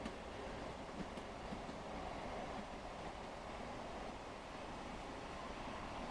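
Class 166 diesel multiple unit train accelerating in the Train Sim World game, a steady broadband rumble and rush of running noise that holds evenly throughout with no talk.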